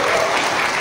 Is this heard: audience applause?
yes